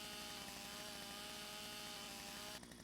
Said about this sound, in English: You're gonna switch it to the chainsaw.